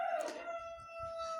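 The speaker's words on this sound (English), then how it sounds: "crowing of the cock or rooster." A rooster crowing once, loud and close, its call fading into a thin sustained tone over a quiet background.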